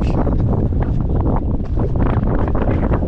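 Strong wind on Bodmin Moor buffets the microphone in a constant loud roar with brief gusty surges, drowning out everything else.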